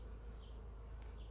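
Honeybees hum steadily around a Warré hive, a faint continuous drone with a few individual bees buzzing past close by.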